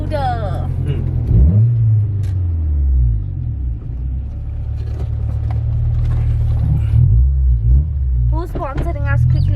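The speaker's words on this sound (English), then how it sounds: "Vtec kicked in there so many times" A VTEC car engine drones as a loud low rumble that rises and falls through several revving surges, with people talking over it inside the car.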